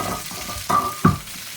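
Chicken frying in a pan with no oil: a quiet sizzle runs under two short, louder scraping stirs close by.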